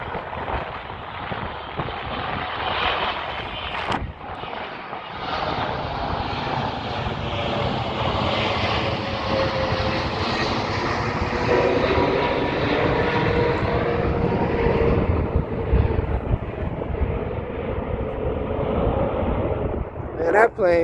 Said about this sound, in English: Man, that plane big as hell.